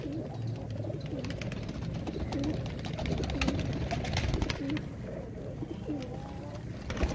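Royal Teddy pigeons in two pairs coo repeatedly in soft, low rounded phrases at close range, over a steady background hum, while someone talks faintly now and then.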